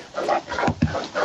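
A pet Labrador barks and yips a few times in quick succession, close and loud, indoors during a podcast recording.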